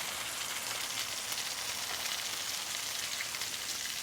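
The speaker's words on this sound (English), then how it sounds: "listen to that sizzle" Constant crackling sizzle of chicken frying in a hot skillet, a bright, even hiss with tiny pops, close and steady throughout.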